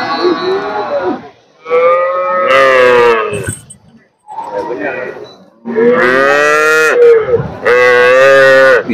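A Holstein Friesian cow that has calved for the third time moos loudly and close at a weekly cattle market in Punganur, with three long, strained bellows separated by brief pauses and breaths.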